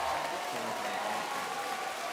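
A large arena crowd applauds steadily at the Nintendo European Championships 2023 esports event, a dense, continuous wash of clapping cheering on two teams, with no clear talk over it.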